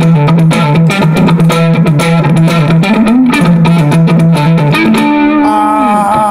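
A Bacchus Imperial 24 electric guitar on its neck pickup with a warm, mellow crunch tone, played as a steady loud riff of chords and single notes, with no voices.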